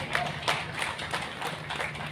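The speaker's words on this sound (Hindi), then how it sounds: "जोरदार तालियों से स्वागत कीजिए।" Audience clapping to welcome a woman to the stage at a Women's Day award ceremony, a steady patter of hands that stays moderate and fairly even for about two seconds, with no voices over it.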